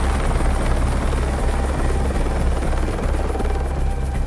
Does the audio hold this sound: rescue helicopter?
yes